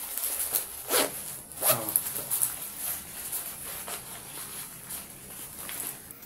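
A zipper on a West Bronco bag is drawn open and shut in several quick rasping pulls, close and fairly loud, with brief pauses between strokes and no talking.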